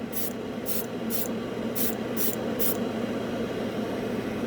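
An airbrush sprays metallic paint in six short, even hissing bursts over a steady compressor-like background hum, close and moderately loud.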